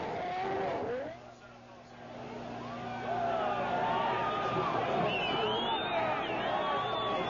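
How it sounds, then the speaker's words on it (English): Formula 1 race cars from the 1993 Brazilian Grand Prix scream along the straight, their high engine notes rising and shifting as they pass, loud and continuous beneath an overlaid commentary voice and crowd noise. "Senna coming up the straight now with Schumacher"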